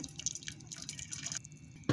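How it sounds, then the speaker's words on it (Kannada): Melted jaggery syrup is strained through a sieve in a home kitchen, giving soft dripping and trickling liquid sounds over about two seconds. "ಇವಾಗ ಬೆಲ್ಲ ಚೆನ್ನಾಗಿ ಕರಗಿದೆ ಇವಾಗ ಸೋಸ್ಕೊತಾ ಇದ್ದೀನಿ"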